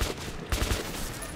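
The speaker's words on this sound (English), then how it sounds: "I'm opening fire." Rapid gunfire rattles in the video game Metro 2033 Redux, a dense fusillade of loud, close shots packed into a second and a half.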